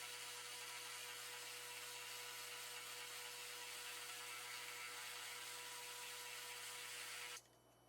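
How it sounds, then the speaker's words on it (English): A spindle sander runs steadily while sanding the edges of a leather holster, a loud, even whirring hum with a gritty grind that holds unbroken for about seven seconds and then drops away suddenly near the end. "I use this spindle sander."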